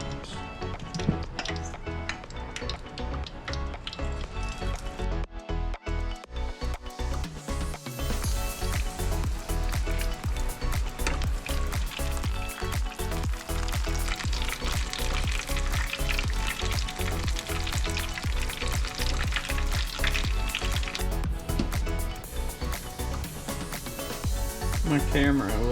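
Onion rings deep-frying in oil at an outdoor catch-and-cook, a loud, steady crackling sizzle that runs continuously for the whole stretch, with a brief dip early on and occasional bubbling bursts.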